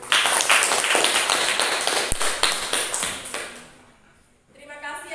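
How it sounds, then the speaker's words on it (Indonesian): A small group claps hands in a classroom, a brisk run of close, rhythmic claps that gradually thin out and fade after about four seconds, followed by a voice starting to speak. "Tepuk tangan dulu."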